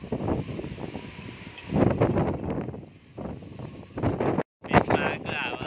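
Gusty wind buffets the microphone at Saltholmen, a well-known beach in Sweden, with low rumbling surges that rise and fall and briefly cut out, while a voice sounds at times underneath.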